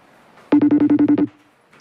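A phone rings with a rapid, evenly pulsed electronic ringtone, loud and close, sounding for under a second before stopping, followed by the start of a voice.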